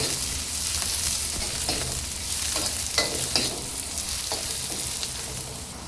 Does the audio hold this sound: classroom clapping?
no